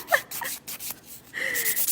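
A zebra nail file rasps across fingernails in short, close strokes, a few quick scratchy passes followed by a longer rubbing stroke, with no talking.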